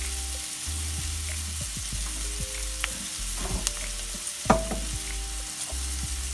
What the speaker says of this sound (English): I'm gonna let this sizzle up and get my main ingredient.